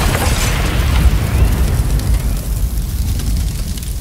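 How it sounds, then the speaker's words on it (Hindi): A bomb blast in a Bhojpuri drama film: a loud, sustained explosive roar with deep rumbling low end and crackling debris, holding steady for several seconds before thinning slightly. "उसने राधा किशन के साथ साथ अपने पूरे परिवार को बम से उड़ा दिया।"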